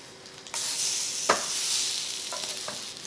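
French toast sticks sizzling in a hot pan as they are flipped, a steady frying hiss that swells, with a soft clunk of the turner partway through and a few lighter scrapes near the end.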